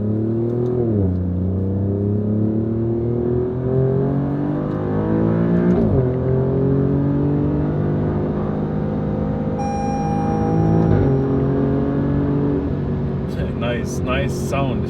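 An Alfa Romeo Giulia Quadrifoglio engine revving loudly and continuously, its pitch climbing and dropping in repeated surges, with someone talking over it.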